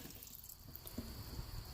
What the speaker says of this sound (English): So run the water.